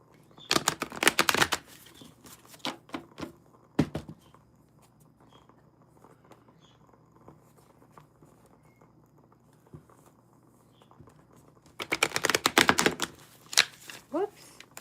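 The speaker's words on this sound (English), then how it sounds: "I'm having trouble shuffling. The cards are being resistant today." Tarot cards being shuffled by hand during a live reading, giving two loud riffling bursts with scattered taps and pauses between them, close up.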